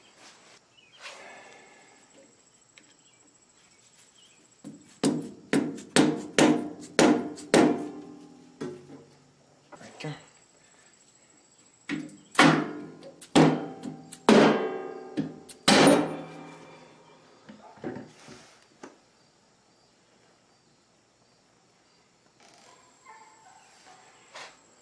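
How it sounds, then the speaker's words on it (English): Two rapid series of sharp metallic hammer blows on a screwdriver knocking a part loose, each a burst of quick strikes, with a few scattered knocks and quiet gaps; a brief voice speaks. "I guess it's simple hitting with a hammer."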